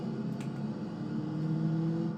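Steady engine drone of a Kia Rio mod in BeamNG.drive, a low humming tone with a faint whir that holds evenly with no talk over it.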